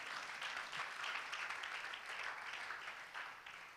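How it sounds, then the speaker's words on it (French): Applause from a women's gathering audience for two sisters called up to the front, a steady wash of clapping that stays loud throughout and fades slightly at the end. "Acclamez pour elles."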